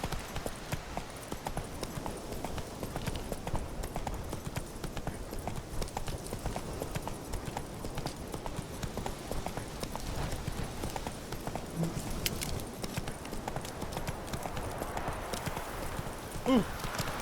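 Roach, a horse in The Witcher 3 game, galloping in a steady rapid clip-clop of hooves that runs throughout, with a brief whinny-like sound near the end.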